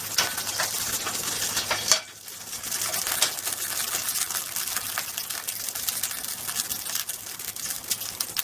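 Cumin seeds roast in a pan for potato dumplings with a faint, continuous crackle and sizzle, broken by occasional scraping stirs and a soft clink near the start.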